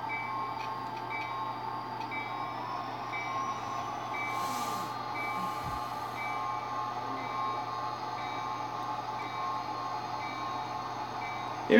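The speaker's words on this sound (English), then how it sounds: "We're going to shove about 6 cars to make a cut." Rail cars are slowly shoved during train switching in a yard. A steady low rumble with faint wheel squeal and tonal hum runs throughout, and a brief knock is heard near the end.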